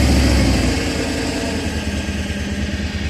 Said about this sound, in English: it sounds like it's got misfire.